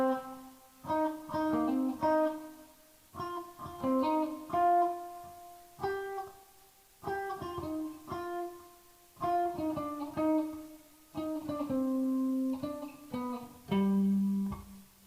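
Electric guitar playing the verse of a song as a melodic line with a fill, alone and up close, in steady phrases with short pauses between them.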